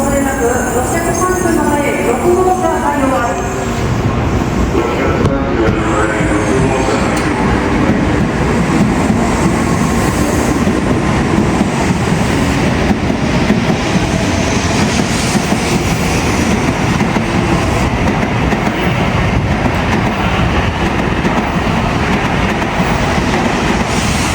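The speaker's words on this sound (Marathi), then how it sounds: "निघाली आता ट्रेन" Loud, continuous rumble of a bullet train in Japan rolling along the tracks with rattling carriages, close by and steady throughout, with faint voices at the start.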